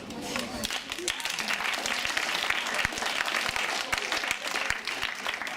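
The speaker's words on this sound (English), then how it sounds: "That was legitimately the first time I've said something on stage that everyone erupted in like clapping after." A crowd in a church congregation erupts in applause, dense clapping that rises quickly and holds steady, moderately distant and full throughout.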